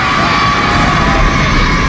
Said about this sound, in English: they get in a big group and like scream and huddle and cry together